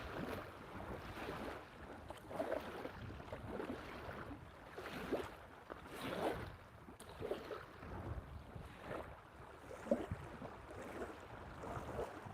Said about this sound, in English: this wind's coming up good on this freaking lake